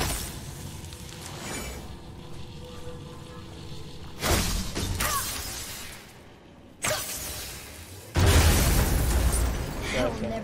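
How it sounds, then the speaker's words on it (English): Objects burst and shatter in the God of War video game, three loud crashing impacts spaced a few seconds apart over a rumbling background, with talk present. "Tired of shattering things with this."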